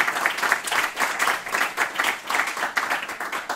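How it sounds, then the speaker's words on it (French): Applause for a guest presenter at a French tech pitch meetup, a steady room-filling patter of many hands lasting the whole stretch at moderate loudness, with no speech over it. "Donc on peut vous applaudir."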